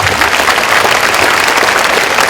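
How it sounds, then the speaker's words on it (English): A large crowd at a premier lecture gives loud, sustained applause, a dense wash of clapping filling the hall without pause. "Give him a round of applause,"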